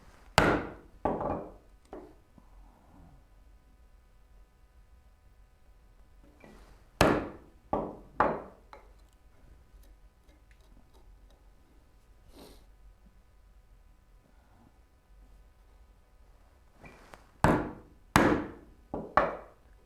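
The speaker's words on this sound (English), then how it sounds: "we are just going to be chiseling the piss out of this." A chisel strikes wood in short clustered bursts of sharp knocks and taps while a turning bow saw is being made, with long quiet gaps between the groups of blows.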